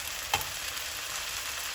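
Bulgur and vermicelli upma being stirred in a pan, heard as a faint, steady scraping hiss with one brief clink near the start and no talking.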